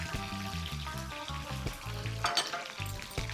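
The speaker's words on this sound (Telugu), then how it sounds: "చూడండి, పచ్చిమిర్చి మంచిగా వేగాయి." Green chillies and curry leaves sizzle and fry in a pan for a drumstick pulp curry, a steady close crackle with stirring scrapes throughout and no talk.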